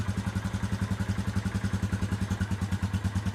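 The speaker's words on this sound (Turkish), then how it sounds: "Motor gayet güzel çalıştı arkadaşlar." A Mondial 50 UAG scooter converted to 150cc idles steadily nearby, its single-cylinder engine chugging in an even, rapid pulsing rhythm with a throaty low thump and a light mechanical clatter, no voices.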